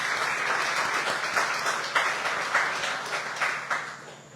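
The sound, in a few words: audience applauding the moderator and guest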